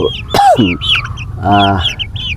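Chickens on a farm cluck and squawk up close in a busy, overlapping chatter, with a brief voice mixed in.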